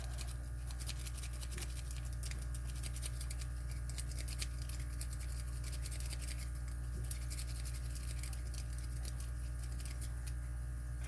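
A pick rakes the pins of a Schlage 5-pin lock core with high-set pins, a quick, continuous close scratching and ticking over a low steady hum.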